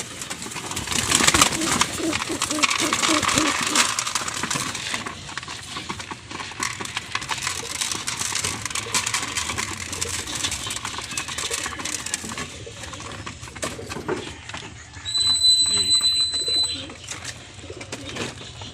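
Racing pigeons being fed, a continuous close pecking and tapping of beaks on grain and a hard surface, with wing flutters and soft cooing throughout.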